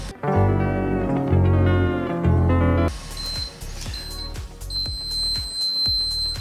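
Air fryer signalling that cooking is finished: after some music, a series of short high beeps sound at close range, separated by sharp clicks, with no talk.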